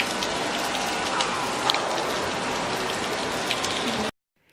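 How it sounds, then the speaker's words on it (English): Rain falls steadily on the streets of Prague, a close and even hiss with occasional louder drips that cuts off abruptly near the end. "waiting for the rain to stop"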